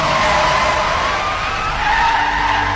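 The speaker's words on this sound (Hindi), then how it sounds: "दलबीर ने गाड़ी रोकी" A car skids to a stop on a highway, with a loud, sustained tire screech that runs unbroken from start to finish.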